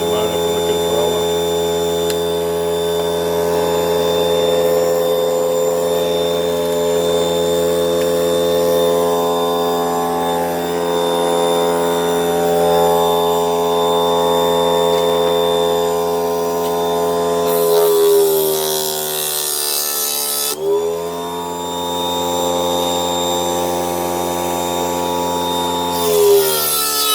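A rewound bifilar inverter generator motor runs on test with a steady, loud electric whine and layered tonal hum, its pitch shifting briefly near the end before settling again.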